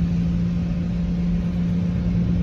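A 1977 Jeep CJ5 with transmission trouble drives along, its engine giving a steady, loud, continuous low hum and rumble throughout, no voices over it.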